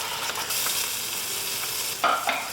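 Tomato puree stirred into a sizzling onion tadka in a pan on high heat, a steady close frying hiss with a few louder splattering bursts near the end, no talk.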